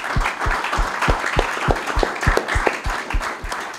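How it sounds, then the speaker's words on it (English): Sustained applause from an audience gathered at Lummi for speakers and youth, with one nearby person's sharp, evenly spaced claps standing out over the dense wash of clapping. "just another round of applause for the speakers and our youth that are here"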